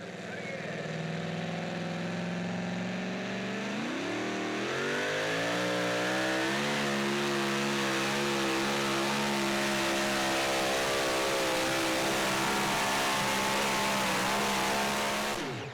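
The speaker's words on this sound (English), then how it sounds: "you can just hear the RPMs on that thing a good bit more than some of the other trucks" A super modified 2WD pulling truck at a truck pull in Saluda, South Carolina revs hard and loud. The engine climbs sharply in pitch after a few seconds, then holds a sustained, wavering high-RPM roar that carries on alone until it cuts off.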